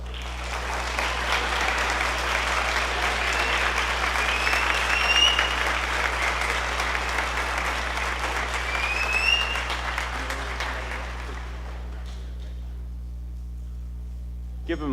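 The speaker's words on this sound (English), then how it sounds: "Give them another massive round of applause." Audience applause at a school band spring concert, steady and fairly loud clapping from a large crowd lasting about ten seconds before thinning out and fading under a low hum.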